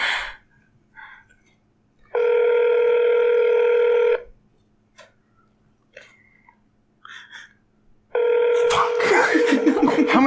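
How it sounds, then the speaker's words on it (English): A telephone line rings through a handset, two long buzzing ring tones separated by silence with small clicks and noises, the second ring cut into as the call connects and a voice begins. "How many times is it gonna ring?"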